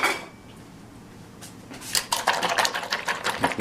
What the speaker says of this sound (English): And then we are going to get the butter melting here in the pan.